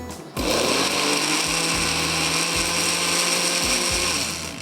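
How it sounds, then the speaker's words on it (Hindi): Kitchen blender whirring loudly while blending ingredients for an Asian pasta salad, a steady motor roar that starts abruptly and runs continuously with slight rhythmic pulsing, close and alone without talk. "इसको हम ब्लेंड कर लेंगे"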